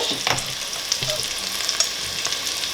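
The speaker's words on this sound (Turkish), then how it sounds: "Salça kavrulurken baharatları da katıyorum" Tomato paste frying in a pan with spices such as sweet and hot red pepper powder for sulu köfte, a steady close sizzle with brief scraping stir sounds throughout.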